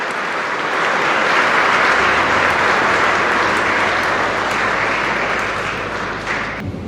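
A Catholic church congregation claps at Pentecost Sunday Mass, a dense, steady burst of applause that fills the hall for several seconds before tapering off at the end.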